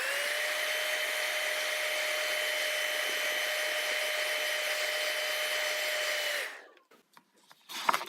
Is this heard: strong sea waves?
no